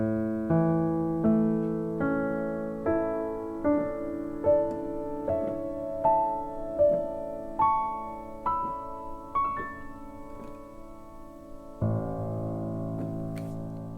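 A piano plays the last line of Through It All with the sustain pedal held down throughout, so a steady run of struck notes climbs and rings together before ending on a final sustained chord.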